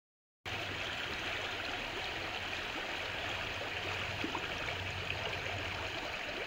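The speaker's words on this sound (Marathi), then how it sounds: "बघू शकतात पाण्याचा प्रवाह कसा आहे" A village river running high in flood, rushing in a steady, dense roar of moving water that holds constant from start to finish with no voices.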